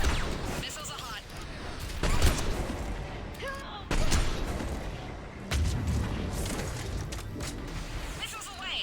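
A salvo of missiles firing in Mass Effect 3, a run of sharp booming launches and blasts in uneven bursts, loud and close, with radio chatter mixed in.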